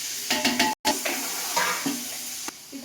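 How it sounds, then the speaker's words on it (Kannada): Onions fry in hot oil and ghee in a pan, with gentle sizzling and several stirring scrapes, one brief dropout partway through. "ಇದನ್ನ ಒಂದು ಸ್ವಲ್ಪ ಫ್ರೈ ಮಾಡ್ಕೊಳ್ಳೋಣ"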